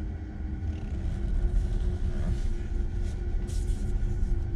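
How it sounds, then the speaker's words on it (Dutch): A 2022 Tesla Model S Plaid is being parked at home, giving a low, steady rolling rumble and road hum with faint cabin noise and no engine note. "En we parkeren de auto eventjes netjes."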